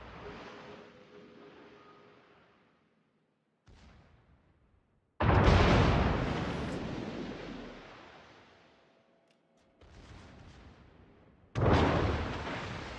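Warship guns in a naval video game, the Edinburgh battling the Odin at close range: three heavy booming salvos, each a sudden loud blast decaying into a long rumbling tail, with quiet gaps between.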